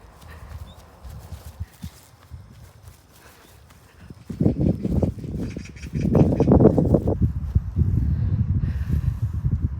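A horse moves about outdoors in Jeju, South Korea, hooves clopping and scuffing in irregular bursts that grow louder partway through, with birds faintly in the background.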